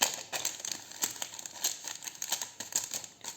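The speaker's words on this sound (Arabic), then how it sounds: "هنا عندي كيس خميرة الحلويات" A plastic packet of baking yeast crinkles close by in a home kitchen, with irregular bursts of rustling and crackling handled continuously, without talk.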